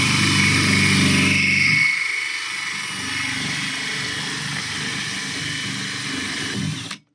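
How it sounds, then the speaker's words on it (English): A power tool runs in reverse, cutting a hole in plastic for a DIY aeroponic cloner, giving a steady loud whine and hum for about seven seconds that drops in pitch after the first two seconds and stops abruptly. "Okay, now I'm going to run this in reverse as to avoid cracking."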